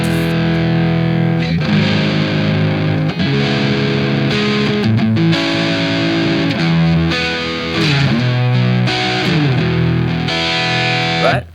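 Distorted electric guitar strums a chord progression through an effects unit, sustained chords changing every couple of seconds, loud and continuous with no talking.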